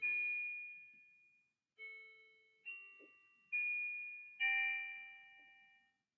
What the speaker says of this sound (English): I'm gonna let this chime because again, 15 minutes. It's just gonna chime.